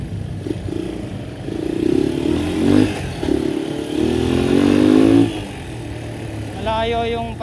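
A Honda XL200R motorcycle engine is revved up twice in long rising sweeps from a rough idle, loud and near. A brief voice is heard at the end.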